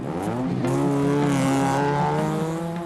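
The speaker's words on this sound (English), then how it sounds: "Some of them are causing a noise nuisance by racing around the roundabout" Cars racing around a roundabout in Bedfordshire at night, a loud, close, sustained engine drone with rising revs and tire noise over about three seconds.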